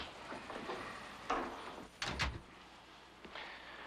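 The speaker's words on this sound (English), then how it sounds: "Close the door, Kevin." A door shut indoors, a muffled thump followed by a sharper double knock of the latch, fairly quiet in a still room with no talking.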